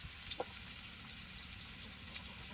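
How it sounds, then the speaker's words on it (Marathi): Chopped onions fry in a hot pan over a strong flame, giving a steady, close sizzle with faint crackles and no talking. "आता कांदा तर आपला मस्तपैकी तळलाय जाळ चांगलंच लागलेला आहे"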